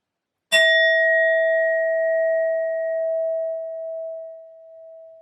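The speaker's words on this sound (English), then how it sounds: "will be using my sound bowl to clear and set the energy as always" A sound bowl struck once to clear energy rings out with a bright metallic strike, then a long, steady singing tone that slowly fades over several seconds, alone and fairly loud.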